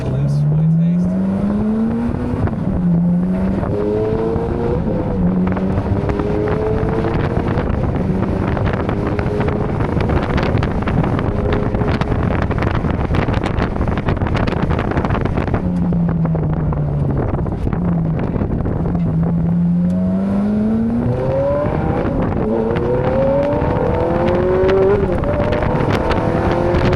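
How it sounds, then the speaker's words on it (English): Ferrari with its factory exhaust, driven on the road: the engine note climbs repeatedly through the gears, drops as it shifts, and builds again midway, loud and close with heavy wind rush and some talk. "Totally different sound exhaust. It's the factory exhaust."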